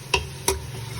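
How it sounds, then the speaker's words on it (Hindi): Chicken fries with garlic and ginger paste while two crisp spoon knocks ring against the pot over a soft background sizzle, brief and close, no voices. "अब इसको भून लें"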